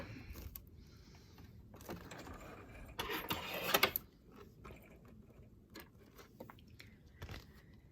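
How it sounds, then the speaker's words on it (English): Scissors snip loose threads on a handmade writing-board envelope, giving faint, close crisp cuts with a brief cluster of sharper snips in the middle against a quiet background. "I'm just snipping the threads now"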